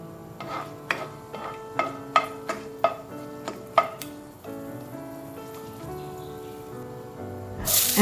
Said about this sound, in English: You then add the whole spices or whole garam masala and saute for